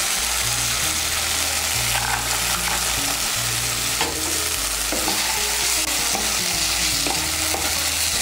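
Soaked chickpeas stirred into a frying spice paste for a vegetarian kochu shak, loud continuous sizzle with rhythmic scraping spoon strokes against the pan, no voices.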